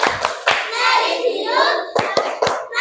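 A school class performs the rhythmic PPK clap chant, sharp hand claps landing in a patterned beat between stretches of children chanting together.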